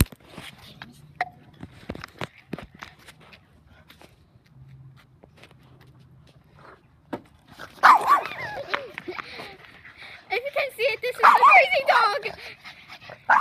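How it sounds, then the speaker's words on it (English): A vicious, excitable dog barks and yelps in short bursts up close, rising to a loud frantic run of barks and whimpers, with people talking around it. "This is a crazy dog."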